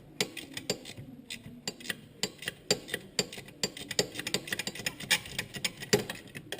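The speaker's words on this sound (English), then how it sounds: "I have a set of spanners that got the ratchet ends on them." Ratchet-ended spanner working engine nuts on a Honda CRF70 being taken apart, giving a rapid run of sharp, close metallic clicks in uneven bursts with nothing else heard.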